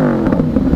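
A Yamaha R1 sport motorcycle's engine gives a short, loud, close throttle blip with a rising rev, lasting under a second with some wind buffeting.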